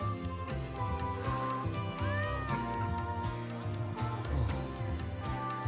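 A cat meows in a video game, the cries rising and falling over a dense, continuous bed of game music and ambience.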